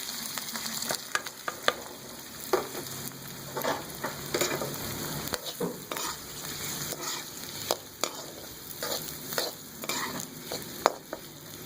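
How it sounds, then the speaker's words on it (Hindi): Onions frying in about a quarter cup of oil in a kadhai for egg bhurji, a steady broadband sizzle with frequent sharp spatula scrapes and stirring clicks against the pan, close and continuous with no talk. "अब एक कढ़ाई में पाव कप तेल या हस्बे ज़रूरत तेल लेंगे और उसमें ये प्याज डाल देंगे"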